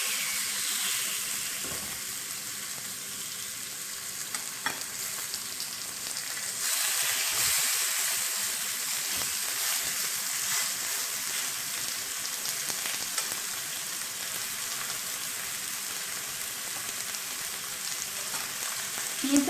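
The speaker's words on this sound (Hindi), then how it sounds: "इसमें मैं अब ये स्टेक्स डालूंगी।" Chicken steaks sizzle in a preheated hot pan with a steady, loud, hissing fry that swells a little partway through, with no talking.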